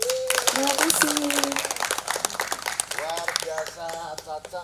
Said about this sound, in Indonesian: ini tepuk tangannya masih sangat lesu sekali